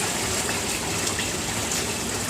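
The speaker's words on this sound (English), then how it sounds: "Waterfall at the back. Let's see here, turn that on." Waterfall feature on a filled Jacuzzi J 480 hot tub running outdoors in Toronto, a steady, fairly loud broadband rush and splash of falling water that holds constant throughout, with no talk.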